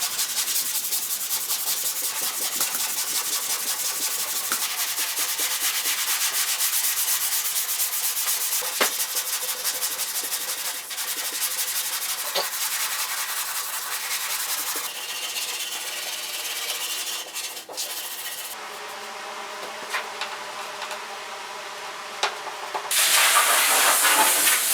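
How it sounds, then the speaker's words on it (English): Steady, close sandpaper rubbing on the passenger door of a 1972 Ford 4x4 truck during rust repair, a continuous abrasive hiss that shifts in texture partway through and grows louder near the end. "let's get some new sandpaper"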